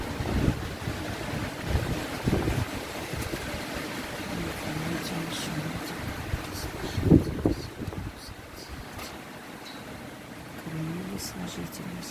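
Strong wind buffets the microphone in gusty rumbling surges outdoors, loud at times and easing at others, while a person talks over it.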